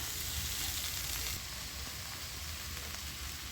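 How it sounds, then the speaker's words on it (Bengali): Already-fried jackfruit and potato pieces frying in hot oil in a pan, a dense, even sizzle that hisses steadily throughout and drops slightly in level partway through. "কাঁঠাল আর আলুটা দিয়েও আমি আরেকটু ভালো করে কষিয়ে নেব।"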